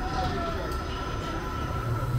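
The Dry Gulch Railroad amusement park train ride at Hersheypark rolls along with a loud, steady rumble and a constant mechanical drone heard close up.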